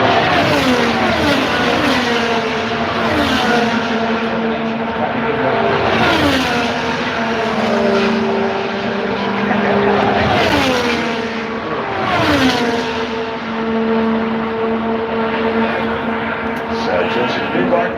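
Several race car engines roar continuously, pitches rising and falling as cars accelerate and downshift, with a commentator talking over the loud, steady engine noise.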